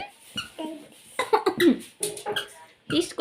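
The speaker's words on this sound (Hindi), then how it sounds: "इसको लगी है खांसी" A child coughs several times in short, close bursts while adults talk nearby in a home setting.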